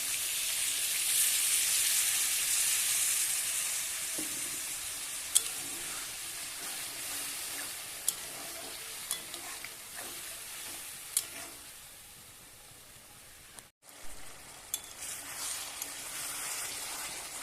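Bottle gourd sizzles in a hot pan while being stirred, a steady hiss of frying broken by occasional clinks and scrapes of the spatula, quieting briefly near the end before resuming.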